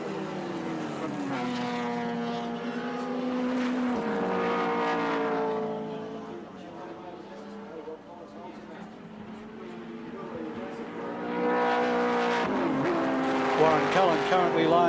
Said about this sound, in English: lighter and more nimble Mazda RX-7 capable of outbraking Cullen's Holden Commodore at the end of the straight, this downhill straight, to stay in front.